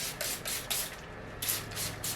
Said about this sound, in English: all I have left to do now is spray it down with rubbing alcohol